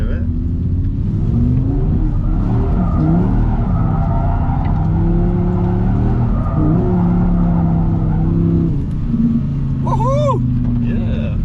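Audi R8 GT, a 2023 car, drifting in second gear, its engine revving hard and droning loudly throughout while tyres squeal in rising whines near the end, with voices talking over it.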